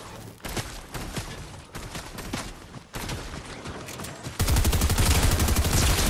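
Rapid gunfire from a Fortnite match, a sub-machine gun among them, crackling in dense bursts of shots, then swelling into a louder, continuous barrage at the end.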